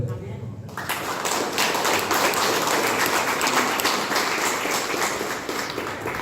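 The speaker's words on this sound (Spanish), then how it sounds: "Aplauso para él." An audience breaks into sustained applause at a tribute event held by a Guarani language and culture society, dense and steady throughout after a brief opening voice.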